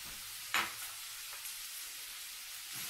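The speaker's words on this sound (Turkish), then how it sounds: "Bunu birazcık kavuracağım" Minced meat sautéing in a pan for Bafra-style pide, a faint steady sizzle with a single sharp stir or scrape near the start and a softer one later.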